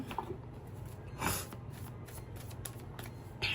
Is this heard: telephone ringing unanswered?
no